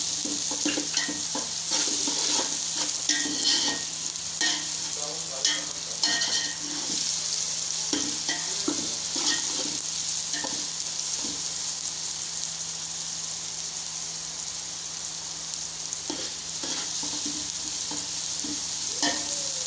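Sliced onions frying in oil until light brown for a dhaba-style anda ghotala, a continuous close sizzle broken by frequent stirring scrapes and clicks of a spoon against the pan.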